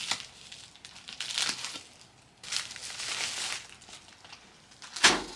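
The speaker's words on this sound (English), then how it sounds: "Let's open up our floss." Plastic packaging holding embroidery floss crinkles and rustles in close, uneven bursts, ending with a sharp tearing crackle.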